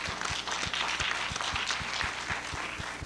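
An audience claps together at a college presidential lecture honoring a woman scholar during Women's History Month, a dense, steady applause lasting throughout with crisp hand claps and no talking.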